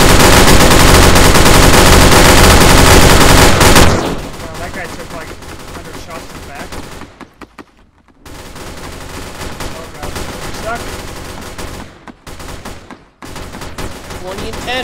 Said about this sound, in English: I couldn't hear you over the gunshots!